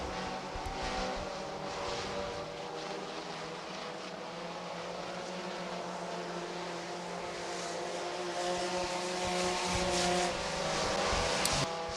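Race cars roar around a track, a continuous loud engine drone with shifting pitch as several cars pass, heard without talk.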